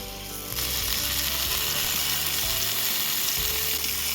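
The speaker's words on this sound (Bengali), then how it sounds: "তেলটা গরম হয়ে গিয়েছে এবার টমেটোগুলোকে আমি দিয়ে দেবো" Tomatoes drop into hot mustard oil and a sudden loud, bright sizzle bursts up after a brief quiet start, then crackles steadily and close with faint clicks of movement in the pan.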